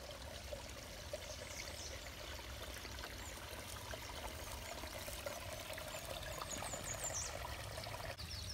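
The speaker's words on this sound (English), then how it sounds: "This is how we cross the river with Devin." River water flows and trickles in a steady, soft babble over stones, heard alone at close range with a constant level and no talking.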